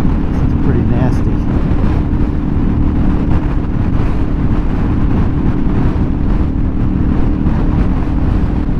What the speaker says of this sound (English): This is as stiff a crosswind as I've ever ridden in.